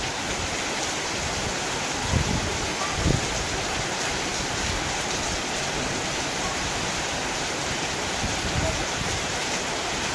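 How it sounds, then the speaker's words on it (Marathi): Steady, gentle rain falls in a village setting, a continuous even hiss with no pauses and only a couple of soft thumps. "हा असा पाऊस झाला पाहिजे शांत पाऊस झाला पाहिजे"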